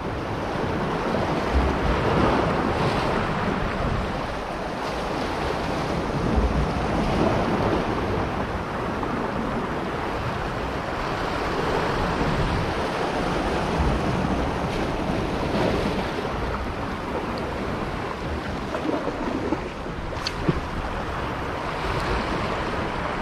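Ocean waves wash against a rocky shore in a steady, continuous roar, with wind buffeting the microphone throughout and no voices.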